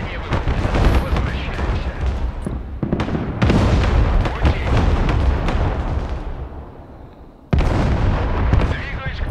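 Artillery fire in the Broken Arrow war game: heavy, loud booms and crackling blasts rolling in bursts, with abrupt cuts between loud stretches and a quieter spell near the middle.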